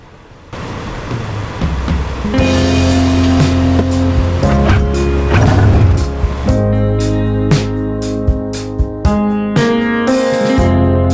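Snowmobile engine being pull-started after six years of sitting: a low rumble rises after a quiet start and settles into a loud, steady, rough idle with sharp periodic ticks and knocks.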